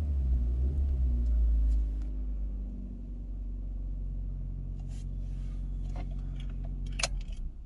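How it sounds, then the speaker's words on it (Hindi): A 2022 Maruti Suzuki Vitara Brezza LXi petrol engine turns over with a loud low rumble at first, then settles into a steady, even idle heard from close by, with a few light clicks and rattles near the end. "आई गाड़ी को स्टार्ट करके देखते हैं"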